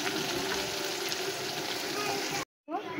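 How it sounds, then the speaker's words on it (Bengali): Nigella seeds, onion, slit green chillies and tomato fry in hot oil, giving a dense, steady sizzle that stays loud and close before breaking off abruptly near the end. "তেলেতে কালো জিরে, পেঁয়াজ, চেরা কাঁচা লঙ্কা, টমেটোকে ভালো করে ভেজে নেব"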